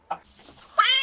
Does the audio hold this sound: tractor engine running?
no